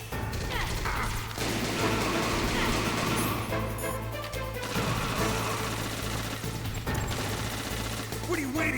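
Gunfire in Metal Gear Solid, a rapid clattering burst of shots and crashing impacts mixed with game music and brief voices.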